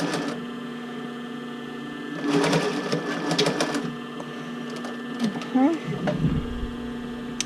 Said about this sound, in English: so I sewed with the twill tape on the bottom